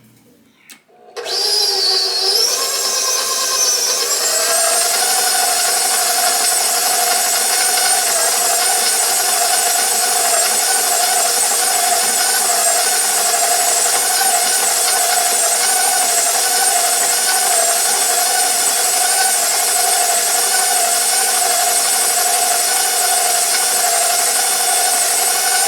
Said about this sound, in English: then we're going to add our sugar. And we're going to cream that together.